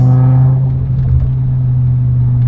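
A modified BMW M5 Touring's V10 engine revs on a downshift, a loud, deep droning hum that rises and then settles into a steady low rumble, heard from inside the car.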